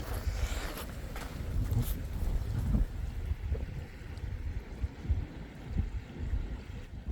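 Gusty wind buffets the microphone outdoors while gold is panned in thick black sand, a steady low rumbling roar that swells and eases throughout with faint water and handling noises beneath.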